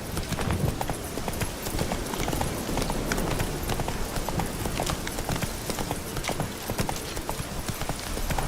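Galloping hooves of Roach, Geralt's horse in The Witcher 3, pound in a fast, steady clip-clop rhythm, loud and close throughout, with no talk over them.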